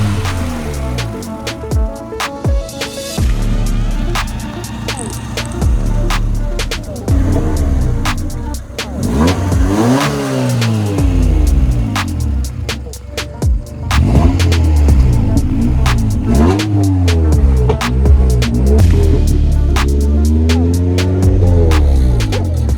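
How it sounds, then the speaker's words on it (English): A 1999 Acura Integra engine revving repeatedly, pitch sweeping up and falling back in rising and falling waves, loud and close, with engine rumble throughout. "practicing his revving up"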